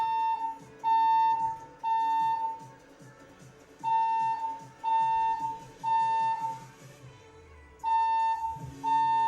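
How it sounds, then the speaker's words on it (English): A fire alarm sounds indoors in Southern California in repeated shrill electronic beeping bursts of roughly a second each, separated by short gaps, with faint background clatter. "I've got a fire alarm going off."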